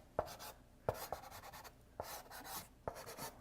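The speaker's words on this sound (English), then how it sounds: "The mark making on the sandpaper is very different than the mark making on the paper." A pastel stick scrapes across sanded pastel paper in several firm, gritty strokes, each starting with a soft tap and trailing into a rasping rub, close and quiet.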